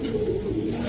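Giribaj pigeons coo in a low, steady murmur, with several birds overlapping continuously and close by in a pigeon seller's stock.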